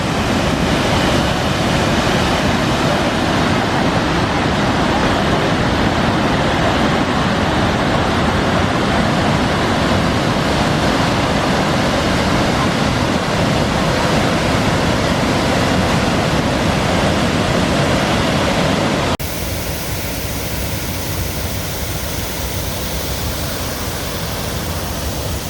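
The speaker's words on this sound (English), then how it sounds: "worthwhile hike to check out this waterfall here" Waterfall near Mendenhall Glacier in Juneau, Alaska, pouring in a loud, steady, broadband roar close by with no voices; the rush drops abruptly to a softer level near the end.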